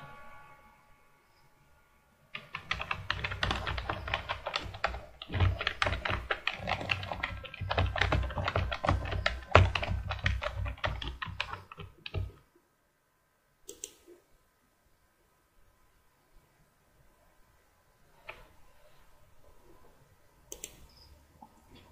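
A computer keyboard clatters with quick, close typing as a password is entered for about ten seconds, then falls quiet apart from a few isolated key clicks.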